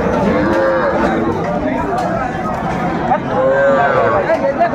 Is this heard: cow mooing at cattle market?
yes